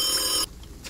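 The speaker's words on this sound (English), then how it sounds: "I can't take you serious if you ring this phone sound." Bright electronic phone ringing in a Chilla's Art horror video game, a steady high trill for about half a second that cuts off abruptly into quiet room tone.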